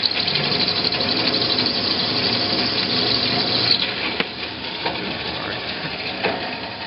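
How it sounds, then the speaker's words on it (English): A drill press counterbores a pawl part in a shop, giving a steady whirring, grinding hiss for several seconds that drops in level, followed by a few sharp clicks and taps. "I'm just going to turn it on and I'm going to drill one."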